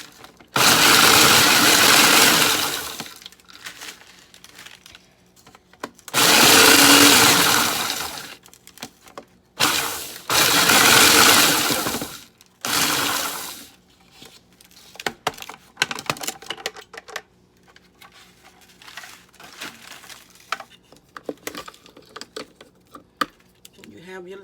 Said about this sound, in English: Just going to give it a couple of spins in the food processor.